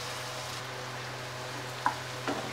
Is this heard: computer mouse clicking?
no